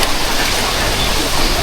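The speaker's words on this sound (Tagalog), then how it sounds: "Tapos may kasamang ulan." Typhoon Basyang brings wind and rain outdoors in the Philippines: a steady, loud rush of gusting wind and falling rain with no letup, no voices heard.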